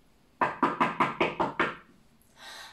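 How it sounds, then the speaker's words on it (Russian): Seven quick, evenly spaced knocks on a wooden door during a children's musical fairy tale performance, crisp and close, followed by a short soft rustle. "Пришла в деревню и постучалась в первый двор."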